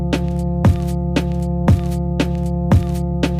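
A rechopped sample loop of two sustained notes plays under a simple drum pattern, with kick and snare hits landing in a steady rhythm and the chord tones ringing continuously between them, no voices.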